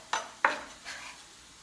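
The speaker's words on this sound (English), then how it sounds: "let's get this onion in here" Chopped onion going into a cooking pan for a vegan lasagna: two sharp clattering knocks of food and utensil hitting the pan, followed by a softer scrape, close and brief with no talking.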